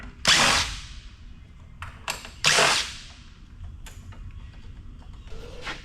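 A power drill backs screws out of transformers in heavy e-scrap, two strong whirring bursts near the start followed by shorter, quieter spins and light clatter.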